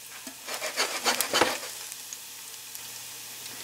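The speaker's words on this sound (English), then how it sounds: "And just stir that around just until the garlic turns a little golden" Chopped fresh garlic stirred in a hot pan, sizzling and crackling in a soft burst of spits for the first second and a half, then settling to a quieter hiss with a few stray pops.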